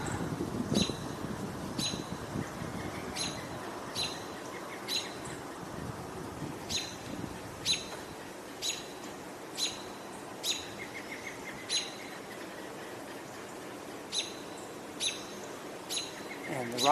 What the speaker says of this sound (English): we're all hearing a number of robins